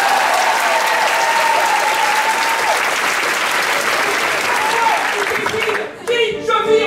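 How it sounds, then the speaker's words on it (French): Steady, dense audience applause fills an improv theatre show, loud and continuous for about six seconds before tapering off as a voice starts speaking at the end. "Applaudissez maintenant."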